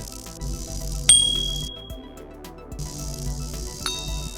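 A single bright notification ding chimes over quiet background music, with a second fainter ding a few seconds later.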